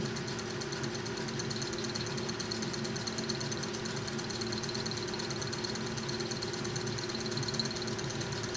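A metal lathe spins at about 700 RPM while cutting a tool blank for a four-way tool post, giving a steady, even mechanical hum and whine that runs throughout with no speech.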